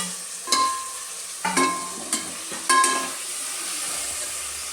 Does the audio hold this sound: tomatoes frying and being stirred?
yes